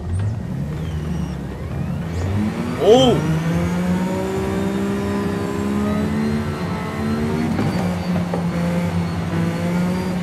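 An Aston Martin Valhalla hybrid supercar pulls away under acceleration with a steady, close engine drone. A brief rising whine cuts through around the third second, and a short exclamation is heard once.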